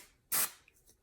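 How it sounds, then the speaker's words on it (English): A single short burst of hair root cover spray, aerosol hiss lasting about a quarter second, close and loud, then quiet. "spray on, gives good coverage"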